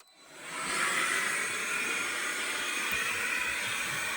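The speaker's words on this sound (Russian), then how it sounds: "почему я пылесошу? Потому что я это делаю у себя во дворе." Vacuum cleaner running outdoors in a snowy yard, sucking up scattered polystyrene foam; a steady broadband whooshing drone that swells up in the first second and then holds loud and constant, with no voices.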